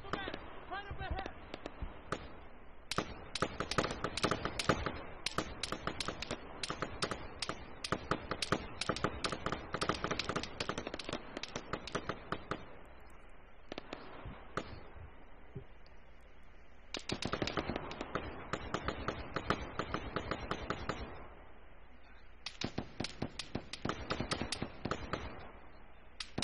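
Sharp cracks of gunfire ripple through a town assault in the military game Arma 3, scattered single shots and clustered volleys with short lulls between them, while voices talk over the shooting.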